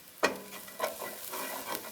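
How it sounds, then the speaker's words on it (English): A flat-ended spatula scrapes browned bits from a pan bottom while it is deglazed with juice, giving a few short scraping strokes over a soft sizzle. "I'm scraping the bottom of the pan, scraping those fonds up into the liquid."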